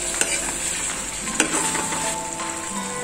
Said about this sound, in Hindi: अच्छे से इसे भूनिए क्योंकि जितना अच्छा आप मसाला भूनोगे उतना अच्छा टेस्ट आएगा